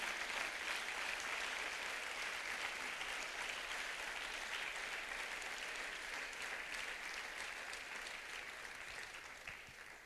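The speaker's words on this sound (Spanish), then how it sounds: "una ofrenda de palmas al Señor" Church congregation clapping as an offering of applause to the Lord during a sermon, a steady, full round of many hands clapping at moderate distance that slowly tapers toward the end, heard alone.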